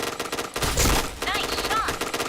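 Rapid automatic gunfire and a burst of explosion-like noise from the online shooter game Point Blank, loud and continuous with game voice prompts mixed in over dense background audio.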